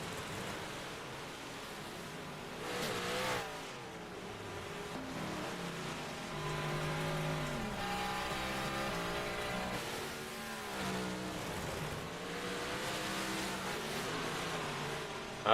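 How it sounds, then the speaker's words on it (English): Big Block 358 race cars warming up before a feature race at a Thursday night track, their engines a steady distant roar that swells and fades as they circle, with overlapping revving tones. "Drivers get them cars dialed in here for the final feature of the Big Block 358s tonight."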